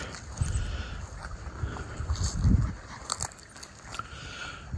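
A Miniature Schnauzer chewing grass outdoors, with soft, irregular crunching and tearing bites close by over a steady background hiss.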